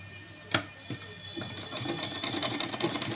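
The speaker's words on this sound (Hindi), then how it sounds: "इस तरह पलटते हैं और सिलाई लगाते जाते हैं।" Sewing machine stitching along the neckline of a suit, a faint quick mechanical whirr with a sharp click at the start and rapid needle chatter building up toward the end.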